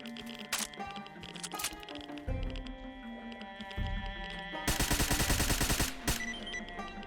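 Rapid bursts of 5.56 armor-piercing rifle fire in the Stalker video game, loud and close, mixed with music and in-game effects, with a long sustained burst near the end.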